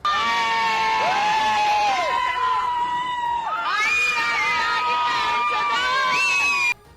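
Loud, sustained screaming and shouting from a frightened crowd as a house slides off a hillside and collapses in a landslide, with several overlapping voices crying out at once for most of the time before cutting off abruptly.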